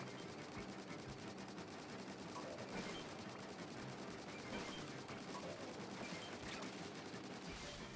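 Rapid, continuous ink weapon fire in Splatoon 3, a dense stream of shots at steady volume throughout, with no clear pauses.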